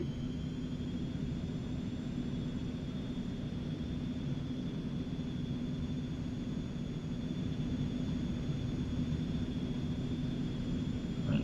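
Steady whine and rumble of the twin jet engines of an Eclipse 550 in the X-Plane 11 flight simulator, a constant droning roar with a thin high tone over it, unbroken for the whole stretch.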